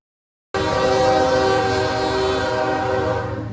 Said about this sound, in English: As freight trains continue rolling north through Mexico towards the United States